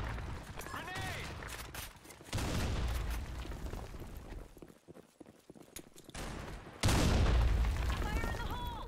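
Gunfire and a grenade blast in the online shooter BlackShot, with loud bursts of shots and booms that come and go, a quieter gap in the middle, and game voice callouts in between.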